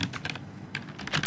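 Rapid keystrokes on a computer keyboard as an email address is entered for a PayPal checkout, close and clear, in uneven bursts of clicks with short pauses and no talking.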